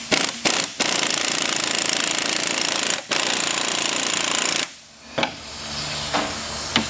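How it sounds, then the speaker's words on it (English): An impact wrench tightens a 19 nut on a strut spring compressor. It fires loud, close bursts of rapid hammering with short gaps between them, then stops and leaves a few faint clicks and knocks at the end. "We just use an impact, tighten it down."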